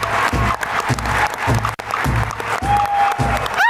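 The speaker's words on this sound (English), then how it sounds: "give a big round of applause for the elders who are here" An audience applauds for the elders at an event, a loud burst of clapping with rhythmic surges, occasional cheers and a voice heard briefly.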